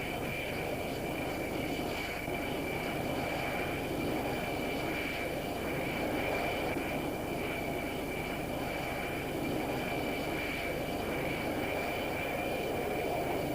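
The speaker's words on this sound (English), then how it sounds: "get perhaps 90 planes loaded and blasted off in quick succession by the mighty steam catapults" Military jets blasting off in quick succession from an aircraft carrier's steam catapults, a loud, steady roar of aircraft engines filling the deck with continuous broadband rumble throughout.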